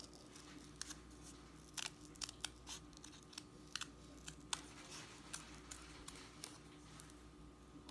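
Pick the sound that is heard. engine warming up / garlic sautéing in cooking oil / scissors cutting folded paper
scissors cutting folded paper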